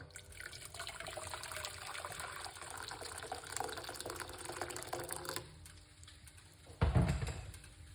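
Hot water pours into a cup in a steady, close stream for about five seconds, then cuts off. A short pause follows before a soft knock near the end. Nobody speaks.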